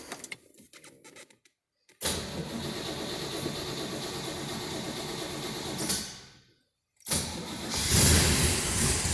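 A 1964 Chevrolet Corvette Fuelie coupe with transistorized ignition cranking, catching and revving, then cutting off before the fuel-injected engine is started again and roars louder, recorded close.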